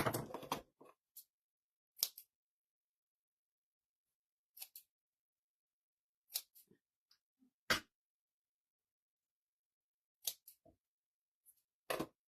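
Scissors snip through pieces of a spring bunny craft kit in short, separate cuts spaced by quiet pauses, each crisp and close.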